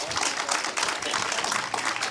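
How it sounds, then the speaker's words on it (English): Continuous audience applause at a seaside outdoor concert for a performer, dense steady clapping filling the whole stretch at moderate loudness with no break. "let's give Adam another round of applause"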